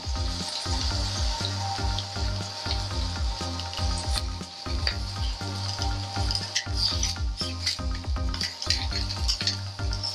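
Cabbage frying in a hot pan gives a loud, continuous sizzle with irregular crackles and pops, heard up close with no talking.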